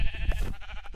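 Sheep bleat in the Minecraft video game, one short wavering baa loud and close, heard alone.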